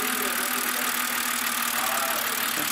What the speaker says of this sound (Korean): 와, 엔진 완전 얌전한데?